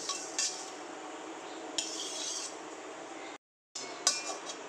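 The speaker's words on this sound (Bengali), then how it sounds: "এইভাবে কনস্ট্যান্ট কিন্তু নাড়াতে হবে, না হলে তলায় আবার লেগে যেতে পারে" Spices for mango chutney being stirred in a pan with a metal spoon, a steady scraping hiss with sharp clinks of the spoon on the metal, broken by a short silent gap before stirring resumes.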